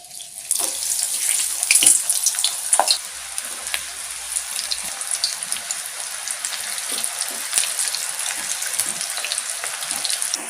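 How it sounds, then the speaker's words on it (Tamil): Hot oil sizzles and crackles steadily as okra, banana flower and bitter gourd finger chips deep fry, a dense hissing bubbling with scattered pops, close and continuous. "இந்த எண்ணெய் கொதிக்கிறது அடங்கின உடனே நம்ம எடுத்துடலாம்"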